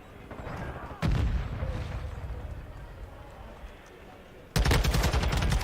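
A Semtex grenade detonates in Call of Duty: Modern Warfare II, a loud broadband blast at about one second followed by a second heavy burst near the end, with battle noise and in-game voice chatter running throughout.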